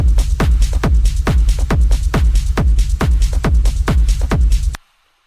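Techno drop drums with a deep, booming kick on every beat and bright percussion layered over it, loud and steady at a driving four-on-the-floor pace before stopping abruptly.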